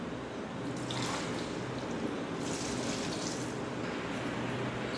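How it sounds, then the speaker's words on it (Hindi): Water poured into a pot of beef for bong salan, a steady close splashing and filling sound that runs throughout, with brief brighter gushes along the way. "पानी जो है हमने इतना डालना है कि गोश्त हमारा जो है पानी में डीप हो जाए"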